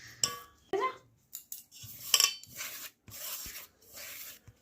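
Flour dough mixed with salt and refined oil is kneaded by hand in a bowl, giving soft, irregular rubs, squishes and light scrapes up close at low volume, with no talk.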